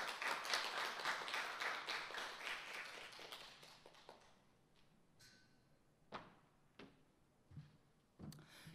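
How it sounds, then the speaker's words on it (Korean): A seminar audience at a Human New Deal policy session applauds to welcome a speaker: dense clapping for about four seconds that thins and fades, followed by a few sparse knocks and thumps in a quiet room. "박수로 맞아 주시기 바랍니다"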